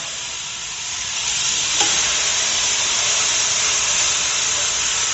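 A steak sizzles loudly after being laid in a smoking-hot pot, a steady broad frying hiss that swells once the meat hits and holds without a break.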